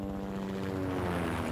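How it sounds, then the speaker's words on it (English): Helicopter in the Max Payne video game (PS2), a steady rotor thrum with low engine drone holding evenly throughout, close and continuous, with no talk. "helicopter."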